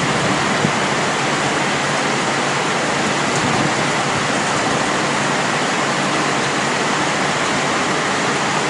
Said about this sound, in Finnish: Tulee kyllä aika reilusti vettä.